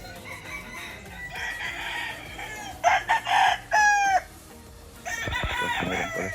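A Sweater Kelso gamefowl rooster crows loudly nearby on a gamefarm, a few strong cock-a-doodle-doo calls in a row, with softer clucks and other fowl sounds around them.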